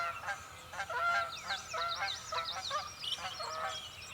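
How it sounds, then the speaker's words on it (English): Wood ducks calling as they fly into a back pond, a series of squeaky, honking calls repeated in quick irregular bursts, moderately distant over a quiet outdoor background. "We've got a couple wood ducks flying into our back pond back there"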